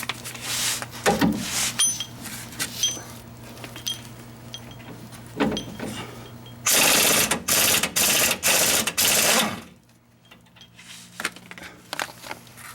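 A 21 mm nut being removed from the rear shock of a 2002 GMC Sonoma, heard as sharp ratcheting clicks and bursts of rapid mechanical chatter, with a long loud whirring run of a power tool, close and intermittent.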